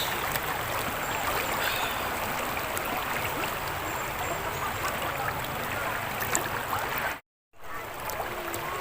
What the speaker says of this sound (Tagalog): Parang tatangayin ako. Malakas ang agos.